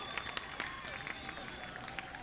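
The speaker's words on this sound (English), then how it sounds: "Everyone is clapping." An audience at a country fair claps after a fireworks display, a faint, scattered patter of applause from a distant crowd, with light murmuring beneath.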